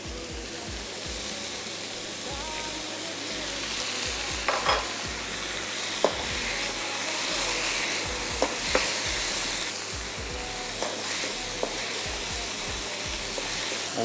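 Stuffed lamb shoulder sizzles and fries steadily in a pan as balsamic vinegar goes in, a dense continuous hiss with occasional small pops and stirring sounds, close and fairly loud.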